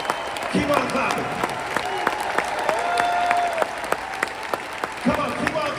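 An audience keeps clapping at a motivational event, a continuous crowd patter with some distinct louder claps punctuating it, while a voice carries on over the top.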